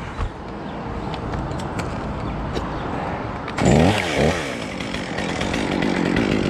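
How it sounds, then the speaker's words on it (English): A chainsaw cuts into oak trees standing over a house near high-voltage lines, roaring loud and continuous, with its engine revving harder partway through. "common courtesy to hit the mute button before you start cutting with a chainsaw"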